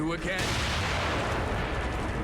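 Grenade explosions in The Evil Within game: a sharp blast opens into a dense, loud rumbling boom that sustains and decays over the rest of the moment, with a short vocal sound at the start.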